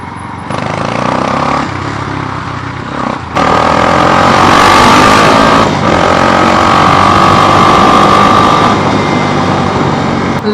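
A motorcycle engine runs loud and close, low at first, then the throttle opens and it holds a strong, raised rev with a steady drone for several seconds before settling slightly.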